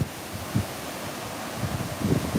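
Hurricane Nicole's heavy wind roars in uneven gusts from a sheltered garage, a broad rushing noise that swells and surges, loudest near the end, with no voices over it.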